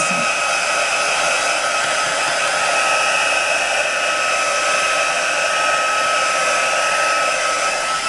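A heat tool blows steadily and loudly to dry freshly stamped Copic craft ink, a continuous airy roar with a constant hum that runs unbroken throughout without any talk.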